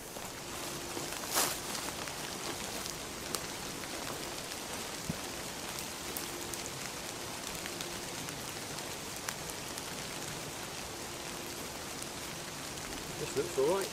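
Heavy rain falling in a Wiltshire woodland of tall ash trees during stormy weather, a dense, steady hiss of drops with scattered sharper patters and a few faint rustles, continuous throughout.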